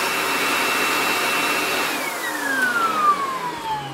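Sebo BS36 commercial vacuum cleaner running with a steady whine and airy rush, then the motor pitch slides down as it winds down after about two seconds, close and with no talk.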